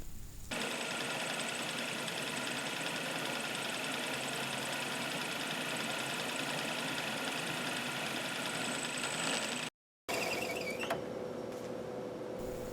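A high-speed steel cutter mills soft aluminum on a machine, giving a steady, loud, whining machining drone with a constant high tone. A brief dropout near the end breaks it before the cutting resumes.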